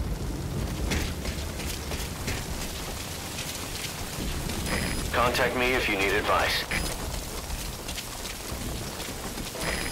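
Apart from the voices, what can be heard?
rain in video game Metal Gear Solid V Ground Zeroes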